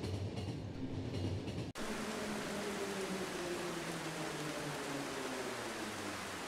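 Trains roll past in The Final Station video game, a continuous rumbling rush with clickety-clack rhythm and falling tones, briefly cut off by a sharp break before the steady passing noise resumes.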